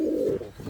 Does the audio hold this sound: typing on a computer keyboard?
no